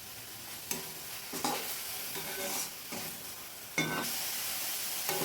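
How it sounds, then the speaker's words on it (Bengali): Onion and tomato fry with cumin, coriander and chili powders in a pan, a soft steady sizzle broken by several bursts of stirring and scraping at irregular intervals, close and fairly quiet with no speech. "এবার মশলার সাথে পেঁয়াজ টমেটো ভালো করে ভেজে নেব"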